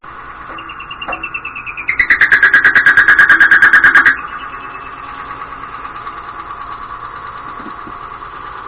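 A wood lathe set to speed 550 drills rosewood pen blanks: a steady mechanical hum throughout, with a louder, pulsing high whine for about two seconds as the bit cuts, then back to the plain running hum.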